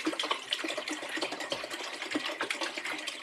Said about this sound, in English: this is my apple cider vinegar. I'm going to put a whole gallon of that into my pot.